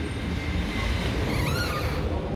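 A train at a railway station gives a loud, steady, continuous rumble and rattle that fills the whole stretch with no pauses.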